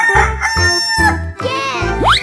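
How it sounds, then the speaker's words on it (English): A chicken crowing over a bouncy musical backing, a short close cock-a-doodle-doo with clucking notes, loud and clear. "chicken"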